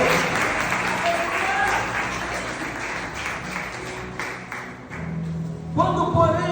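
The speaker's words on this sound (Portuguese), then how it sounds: "Uma salva de palmas para o Senhor Jesus" A church congregation claps at length, a steady wash of applause that carries on under a voice and swells again near the end.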